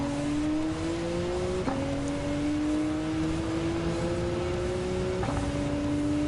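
Porsche GT1 road car racing in Gran Turismo 7 at Laguna Seca, its engine holding a steady rising drone with two sharp gear changes, loud and close with no talk over it.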